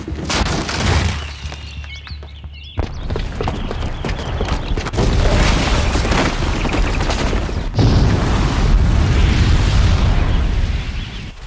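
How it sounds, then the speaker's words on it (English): Bomb explosion triggered by a booby trap in the video game Horizon Zero Dawn, a loud booming blast followed by sustained roaring rumble and debris, with a second heavy surge later, very loud throughout. "the booby trap on the bomb downstairs is gonna get set off"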